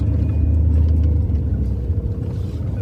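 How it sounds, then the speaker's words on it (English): A car climbs a dirt road through Gila National Forest in New Mexico, its engine giving a steady, close, low rumble with no one talking. "I'm just driving up here and hoping I can find a place to park"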